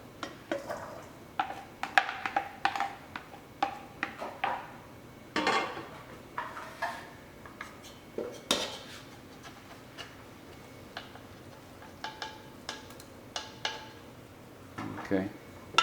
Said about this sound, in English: So now we're going to mix the pasta and the rapini together.